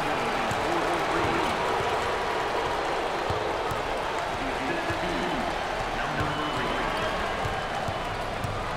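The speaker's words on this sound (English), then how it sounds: "And a packed crowd, and they are into it tonight." A packed home crowd at an NIT college basketball game between LSU and Seton Hall cheers and roars steadily after a three-pointer, with the announcer talking over the noise.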